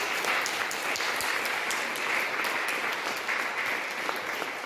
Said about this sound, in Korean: 우리 연합속장과 지역장들의 수고에 한번 격려의 박수 해주시기 바랍니다